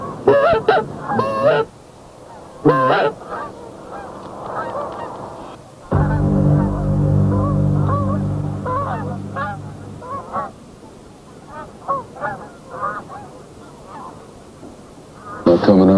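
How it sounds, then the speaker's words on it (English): Geese honk repeatedly in clustered bursts, loud and close, then calls scatter and fade; someone talks between the honking in the field. "resting and feeding geese don't make a lot of noise"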